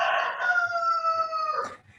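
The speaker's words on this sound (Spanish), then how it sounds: "es el gallo de Miguel" A rooster crows once in a long drawn-out call, close and loud and heard on its own, cutting off abruptly at the end with no speech over it.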